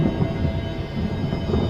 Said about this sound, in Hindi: ठीक उसी वक्त गोल्डन गेट होटल के ऊपर आसमान में बिजली कड़की